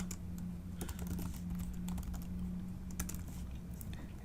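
Typing on a computer keyboard: quiet, irregular key clicks tap along at a moderate pace over a low steady hum, with no talk.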